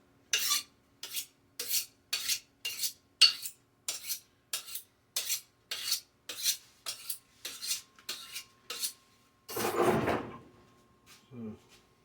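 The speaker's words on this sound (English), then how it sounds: "And I got to sharpen my knife." A kitchen knife is sharpened with about sixteen evenly spaced scraping strokes, close and crisp, followed by a longer rushing burst and a brief final scrape, with no talking.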